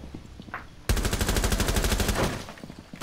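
A long burst of rapid automatic gunfire in Rainbow Six Siege starts abruptly after a quiet moment and hammers on loudly for about a second and a half before fading into softer game sounds.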